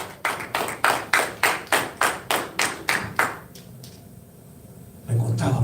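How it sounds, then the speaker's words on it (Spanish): A church congregation claps for the Lord in unison, about a dozen strong, evenly spaced claps at a steady rhythm before falling quiet, with a rise in crowd noise at the end. "Dele palmas al Señor"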